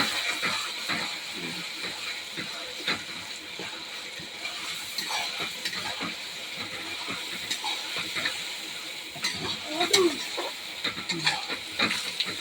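Spices and turmeric frying in a pan while being stirred, producing a continuous moderate hiss of sizzling oil broken by scraping and knocking from the spoon, with a louder scrape near the end.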